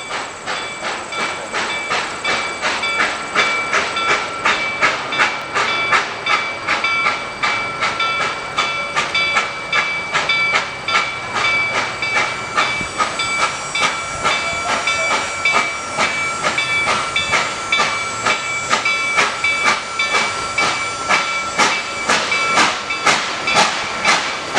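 Reading & Northern 2102 steam locomotive easing up to a station stop, hissing steam loudly and continuously over a rhythmic metallic clanking pulse, close by and with no talking.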